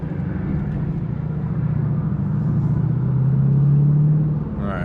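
An Infiniti M56 fitted with PPE headers and exhaust accelerates on a runway. Its deep engine rumble is loud and close, building steadily and peaking near the end before easing slightly.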